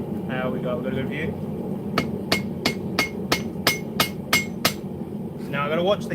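A hammer strikes hot metal at a blacksmith's forge: about eight sharp, ringing blows at a steady, even pace over a constant low roar, with voices talking before and after the strikes.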